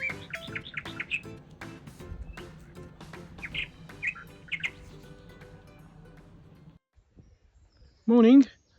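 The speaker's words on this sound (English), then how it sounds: "Yep, and the birds are great." Small birds chirp and tweet in quick, bright phrases beside a canal where a narrowboat is moored. The calls sit at moderate distance over a low steady hum, and a sharp louder warble arrives near the end.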